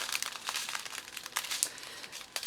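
Crinkly plastic packaging being folded and handled, a dense run of close, rustling crackles and crunches with no pauses for the full stretch.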